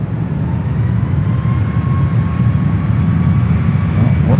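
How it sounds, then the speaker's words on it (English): A United Airlines 787-9 Dreamliner takes off at San Francisco airport, its jet engines making a loud, steady, dense roar throughout with a faint high whine on top. "This flight heading to Bombay to United Airlines flight 115, 787-9 Dreamliner."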